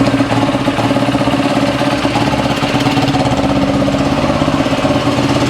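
A 2018 Yamaha YFZ450R quad engine running steadily and loud after starting, with a continuous rough idle and rapid pulsing throughout, in a garage.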